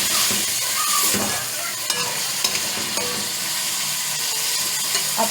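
Minced meat fries with ginger garlic paste for qeema karelay, releasing water as it cooks, with a loud steady sizzle and hiss broken by repeated stirring scrapes close by. No one talks.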